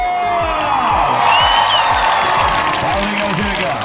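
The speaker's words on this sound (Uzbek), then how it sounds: "qarsoy olqishlar" A crowd applauds steadily, a dense wash of clapping mixed with some cheering, loud and sustained throughout.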